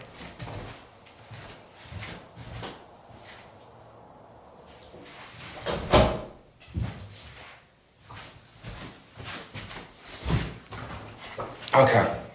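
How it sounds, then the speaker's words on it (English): A door is pushed shut in an office or room, with bumps and a firm thud from the door and latch amid shuffling and movement, while someone talks nearby throughout. "let me just shut this door"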